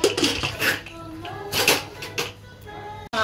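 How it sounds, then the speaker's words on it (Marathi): A pressure cooker is set on a home kitchen stove amid a few close metallic clanks and knocks of pots and lids, with quiet kitchen background between the hits. "आता आपण कुकर लावूया."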